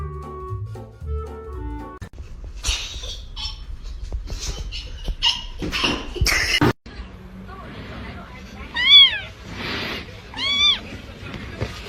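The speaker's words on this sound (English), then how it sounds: "Maybe this is how cats exercise, fighting and burning calories at the same time." Cats fight with hissing, yowling bursts and rising meows, loud and close, in a chaotic stretch after an opening of other sound; several sharp harmonic cries stand out near the end.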